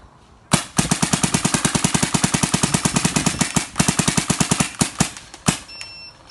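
Close, loud bursts of rapid pops from a DYE DSR paintball marker, starting with a couple of single shots, then a long fast string with brief breaks, ending in a few spaced shots.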